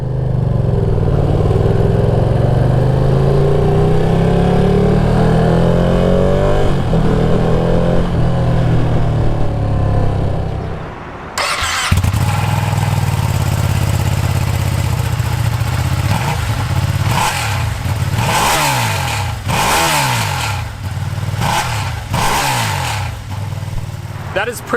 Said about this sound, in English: I really like the sound this bike makes.